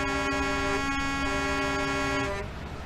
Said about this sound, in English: There you go. Let Julia honk.